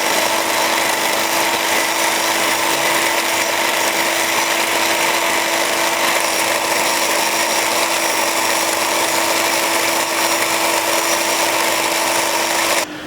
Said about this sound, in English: Right now I'm scraping a surface plate, and I'm using a scraping machine called Biax.